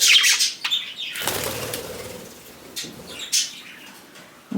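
Pet budgies flutter their wings in quick bursts and give a few sharp chirps indoors, the flapping close and loud at the start and again near the end.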